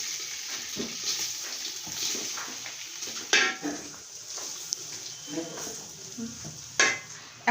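Par-boiled polao rice, cooked to about 80 percent, is poured into a biryani pot with oil, giving a soft scattering rush with light sizzling, stirring and a few sharp clinks of utensils against the pot, heard close up.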